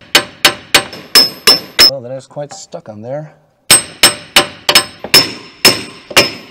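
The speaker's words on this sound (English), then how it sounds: "with the help of our friend, the hammer, we're gonna go ahead and try to loosen this" A hammer strikes a rusted wheel bearing on a MINI Cooper R50 in sharp metallic clangs: six or seven even blows, a short spoken pause, then about nine more loud, ringing hits.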